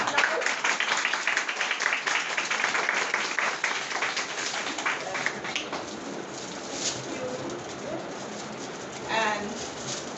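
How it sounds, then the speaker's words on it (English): At an Independence Day school event, an audience gives a student's performance a burst of scattered applause that is loud at first and fades over several seconds, with voices and crowd murmur underneath toward the end. "So give her a big round of applause."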